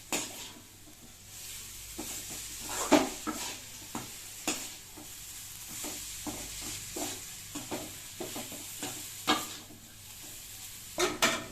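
Chicken for noodles fries and is stirred in a pan: a steady close sizzle broken by repeated scraping stirs, with no voices.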